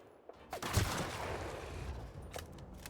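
Gunfire in the video game The Outer Worlds: a sharp shot followed by a rolling, echoing burst of blasts and a fading tail, with a second fainter report near the end.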